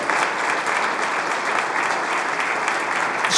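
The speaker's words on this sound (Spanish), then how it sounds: "yo quiero que ahora le dé el aplauso más fuerte al Rey de Reyes" Steady, loud applause from a church congregation filling the space, dense continuous clapping throughout with no break.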